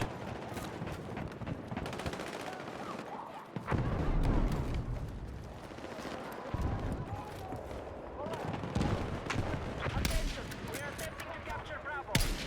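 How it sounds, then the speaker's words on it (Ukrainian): Battlefield 6 Conquest match on New Sobek City with constant explosions and gunfire, a dense barrage of booms and shots throughout, loud and continuous, with voices talking over it. "Вибухи постійні, задовбало."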